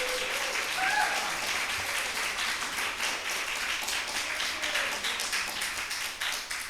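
An audience applauds at a live public event in New York City, a steady, fairly faint wash of clapping that lasts throughout and tapers off only slightly toward the end.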